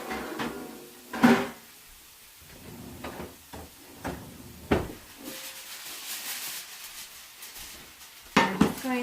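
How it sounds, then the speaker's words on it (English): Cooking pans are shifted and grabbed on a home kitchen stove, giving several sharp metallic clanks and knocks spaced between quieter scraping and rattling, close up and without talk. "I'm going to move this pan out of the way, and we're going to grab another pan"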